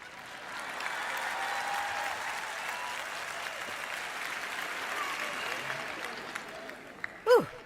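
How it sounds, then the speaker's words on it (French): A church audience applauds steadily for several seconds at a Joyce Meyer Ministries sermon, a dense wash of clapping that fades slightly before a brief sharp sound at the end. "Si vous allez applaudir, ne vous arrêtez pas à mi-chemin."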